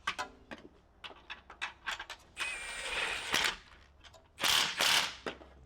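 A hand ratchet tightening catalytic converter bolts on a G37 Coupe, heard as bursts of quick clicking pawl strokes spaced irregularly, with a longer grinding run midway and two loud close rattling bursts near the end.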